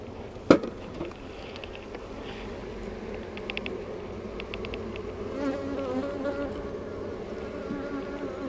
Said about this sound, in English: Some excited bees.